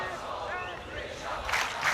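A schoolboy rugby crowd cheers and chants for Selborne College during a scrum against Dale College, sounding distant and broad. The shouts swell toward the end of the stretch.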